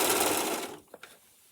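A Singer Profinish serger set to its stretch stitch runs briefly with a steady mechanical whir, then stops, followed by a couple of faint clicks in near silence.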